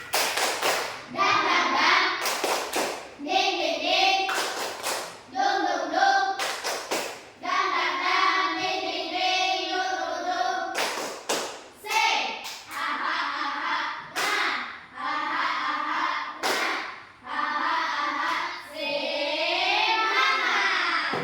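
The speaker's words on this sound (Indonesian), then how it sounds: "kita tepuk semangat dulu. Tepuk semangat." Children in a classroom perform the Indonesian tepuk semangat chant, sharp rhythmic hand claps in repeated clusters alternating with loud chanted voices, steady and near throughout.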